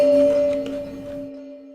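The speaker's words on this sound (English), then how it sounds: "Obviously, that has some delay and a reverb on it." A bottle played as an instrument through delay and reverb effects, a bright sustained two-tone ring that fades into a lingering echoed tail, close and without talk.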